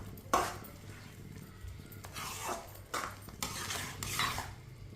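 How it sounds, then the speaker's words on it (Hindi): Spoon stirring semolina halwa with sugar in a pan on a medium flame gives repeated scraping, clinking strokes at an irregular rhythm, close and fairly clear, with no talking. "इसी तरह चम्मच चलाते हुए पकाना है चीनी डाल के।"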